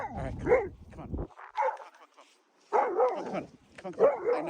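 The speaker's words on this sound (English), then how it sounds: "A minute of barking is good." A dog barks on a beach in repeated short bursts, sharp close yips and bow-wows separated by brief pauses, with some whimpering tones mixed in.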